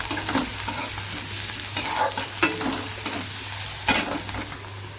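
Garlic and onion fry in hot mustard oil with mustard seeds, a steady sizzle running throughout while a utensil stirs and scrapes the pan in irregular strokes, close by and with no talking.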